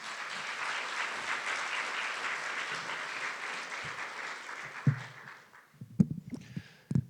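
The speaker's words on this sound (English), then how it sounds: "Please give a round of applause for Damen." A seated audience at a poetry showcase gives a steady round of applause that thins out and fades after about five seconds. A few scattered claps and small room noises follow in near silence.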